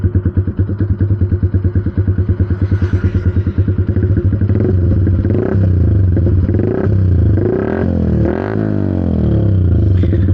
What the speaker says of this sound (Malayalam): ഇതാണ് നിലവിൽ ഐഡിലിങ്ങിൻ്റെ സൗണ്ട്.